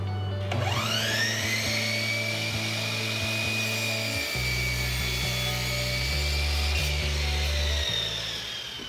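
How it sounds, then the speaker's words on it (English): A miter saw crosscuts wooden boards up close, its motor whining up to speed and holding a bright steady pitch while the blade grinds through the wood and then spins down. "Now I'm going to take them to the miter saw and cross cut them to their final lengths."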